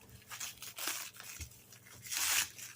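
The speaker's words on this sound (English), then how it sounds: "I'm going to cut here in case it cuts into the label." Someone cuts open a package, probably with scissors or a blade, giving a few soft, close tearing and slicing scrapes in irregular bursts, quiet and without talk.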